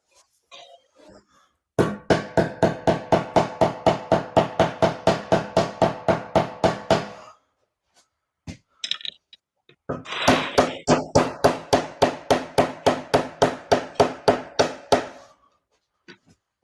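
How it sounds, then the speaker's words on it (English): A hammer strikes a surface again and again in two long, steady runs of sharp, evenly spaced blows. The blows are close and loud, with a short pause and a few scattered hits between the runs. "I'm going to turn this over and see if I can hammer some of this down more."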